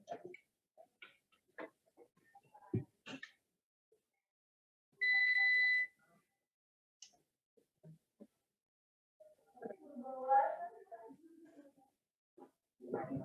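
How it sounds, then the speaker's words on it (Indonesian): A Socomec UPS running on battery backup gives one clear, steady electronic beep lasting under a second, between quiet stretches of sparse talk. "Selama ada backup dari baterai, dia ada bunyi bipnya"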